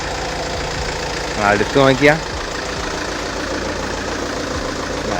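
A 2008 Tata Safari Dicor 2.2 diesel engine idles with a steady, loud, clattering rumble throughout. Someone speaks briefly over it near the middle.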